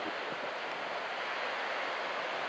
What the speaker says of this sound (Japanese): まあ、乗り継げる波が、結構入っています。